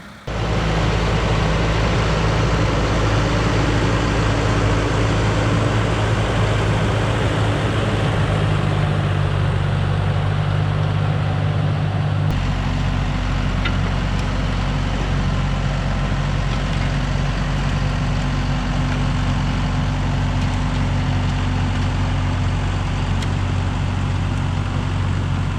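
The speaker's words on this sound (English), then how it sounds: "This tractor is just mowing right through everything." A tractor engine drones loudly and continuously close by while mowing through brush, a low steady rumble with a slight shift in pitch partway through, no voices.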